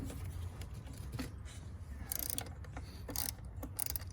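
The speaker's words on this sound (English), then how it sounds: "so I got my bigger ratchet to actually do it" A large ratchet works loose a tight bolt on the EGR of a Jeep Grand Cherokee EcoDiesel. Sharp metallic clicks come in small clusters over a steady low background hum, fairly faint and close.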